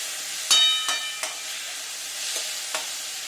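Washed lentils go into a hot pan and sizzle close by, with several sharp scraping strokes of a spoon against the metal over a steady hiss.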